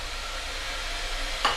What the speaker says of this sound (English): Yeah, onion in oil,